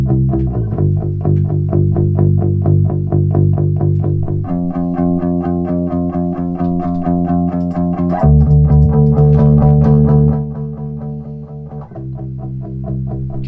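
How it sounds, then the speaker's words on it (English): A bass guitar plugged direct into a Focusrite Saffire 56 plays sustained, steady notes alone, loud and clean, changing pitch every few seconds. "This is the bass, which was plugged directly into the Saffire 56."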